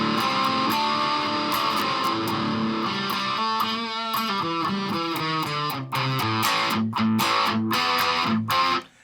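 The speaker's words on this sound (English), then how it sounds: "good distortion sounds" Heavily distorted electric guitar plays a chugging riff through an amp, thick and loud, with rhythmic palm-muted stops toward the end.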